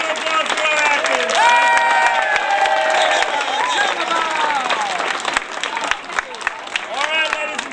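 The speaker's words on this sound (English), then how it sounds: "Let's have a huge round of applause for our actors." An outdoor theme-park crowd at Epcot's Italy Pavilion applauds and cheers the street-theatre actors at the end of a comedy show, loud clapping mixed with whoops and voices talking throughout.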